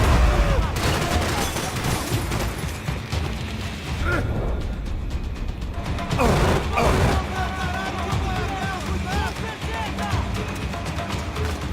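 Sustained automatic gunfire in the video game Max Payne 3, dense and loud throughout, with rapid bursts, pops and clattering mechanisms layered over one another without a break.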